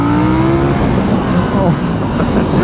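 A KTM 890 Duke R motorcycle running its stock 16-tooth front sprocket accelerates hard, its engine note loud and close as the pitch climbs and drops through a gear change.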